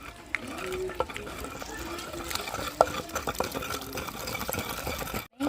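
Tomato chutney being ground by hand, a steady rough scraping and rubbing with occasional small knocks, close and continuous.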